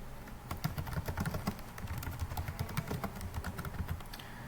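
Steady typing on a computer keyboard while writing a sentence in Microsoft Word, a fast run of close, crisp key clicks with brief pauses, no voices.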